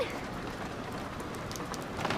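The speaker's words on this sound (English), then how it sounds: "You like the rain?" Heavy rain drums steadily on the roof of an RV, a dense, loud, continuous patter that fills the interior with no break.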